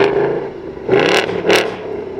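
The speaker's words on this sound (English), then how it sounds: "we can get a rev from the back of the Mustang and then shut it off just like that" A 2024 Ford Mustang GT Premium V8 idles low, then gives two quick revs about half a second apart when started by remote, both loud and close, before settling back to a steady idle.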